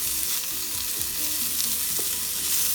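Potatoes and onions fry in butter in a pan, sizzling steadily and close up, with a few stirring scrapes and no voices.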